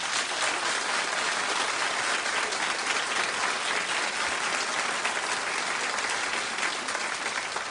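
Steady, dense applause from a television talk show studio audience, a continuous wash of many hands clapping at even loudness throughout, with no voices over it.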